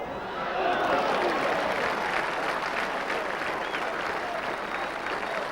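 A football crowd of about 6,000 at a Celtic match applauds steadily, a dense, continuous roar of clapping that swells in and holds at a strong level throughout.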